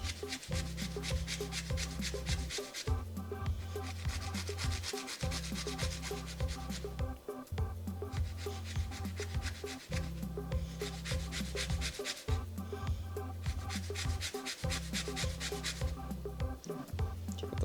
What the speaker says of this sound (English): So start zesting this just a little bit.